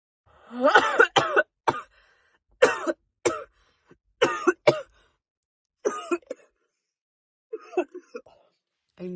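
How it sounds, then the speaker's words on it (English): A string of coughs after a smoking hit, close and loud at first, then rougher, weaker bursts with pauses between them, fading toward the end. "I knew I was going to cough."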